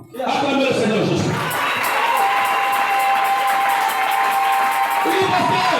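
A church congregation cheers and acclaims Jesus in a loud, sustained crowd roar of shouts and whoops, with a voice speaking over it throughout.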